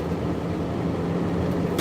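A truck passing on a street, producing a steady, fairly loud broadband engine and road rumble that holds throughout, with no speech over it.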